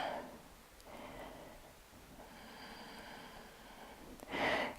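Slow, deep breaths drawn during a post-run yoga stretch, soft and close, with a stronger exhale near the end and quiet gaps between breaths.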